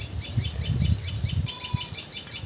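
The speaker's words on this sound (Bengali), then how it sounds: "ওই যে টুনটুনি পাখিটা" A common tailorbird gives quick, evenly spaced chirps in a steady series outdoors in a rural village after rain, fairly close and clear over a low rumble of background noise.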